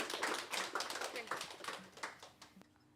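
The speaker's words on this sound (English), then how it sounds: "I suggest we give another big round of applause to the enemy surveillance team and their" An audience at a hackathon presentation gives a round of applause after a demonstration. Brisk, dense clapping fills the room for a few seconds, then thins and stops abruptly.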